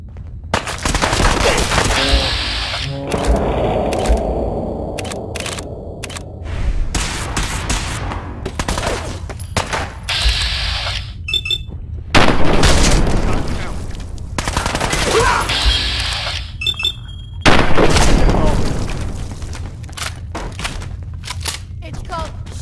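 Gunfire in Fallout 4 rings out in rapid bursts and single loud shots across a chaotic firefight, with echoing booms between volleys and brief voices talking amid the noise.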